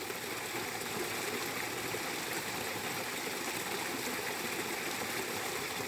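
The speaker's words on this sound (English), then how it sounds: "Natural waterfall" Small natural waterfall on a countryside stream in Princeton, Massachusetts, heard as a steady, close rush of falling and splashing water that holds an even level throughout, with no voices.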